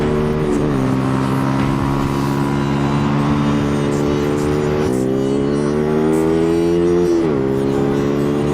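A Duke motorcycle accelerates hard along a UK backroad. The engine note is loud and close and climbs steadily in pitch, with brief drops at the gear changes before it pulls up again. No one speaks.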